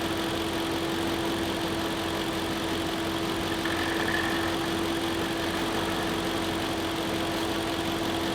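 A Mercedes SL R230 with the M113k supercharged V8, half warmed up, running at a steady idle with a constant hum and an unchanging drone throughout.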